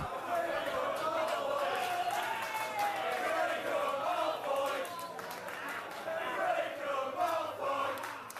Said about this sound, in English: you can hear the crowd getting on the case of Mark Andrews